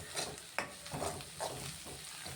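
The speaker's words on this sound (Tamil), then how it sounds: "வெங்காயம் பூண்டு இஞ்சி எல்லாமே நல்லா பச்சை வாசம் போக நல்லா கோல்டன் ப்ரௌன் கலர் ஆகிற வரைக்கும் நல்லா வதக்கிக்கலாம்" Onion, garlic and ginger sauté in a pan, a soft steady sizzle with a few quiet scrapes of stirring, faint and close.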